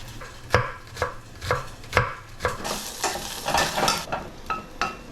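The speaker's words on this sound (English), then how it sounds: "Dicing up a little onion." A knife dices onion on a cutting board with about a dozen sharp, evenly spaced chops that come close together and loud, with no talking.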